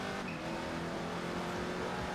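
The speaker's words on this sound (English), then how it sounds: "Loud-ass fucking Corvette." A Corvette engine in the racing game Forza Motorsport 3 roars loudly and steadily throughout, a constant close engine drone with no pauses.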